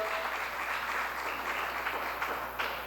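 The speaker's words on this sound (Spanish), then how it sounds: "Denle una ofrenda de aplauso al Señor mientras se sienta." A church congregation claps together in a brief, fairly faint burst of applause, a steady patter of many hands lasting a few seconds.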